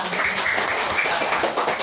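A small class of students applauding their classmates' discussion during a school lesson, steady dense clapping throughout at moderate level, with no talk over it.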